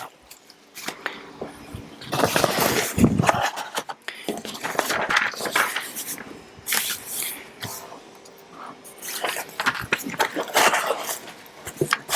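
A dog named Luna lets out bursts of sharp barks in irregular clusters, loud and close in an indoor room, separated by quieter gaps with small rustling noises.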